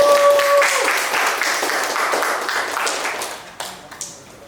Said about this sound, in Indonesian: Selamat dan tepuk tangan untuk mereka.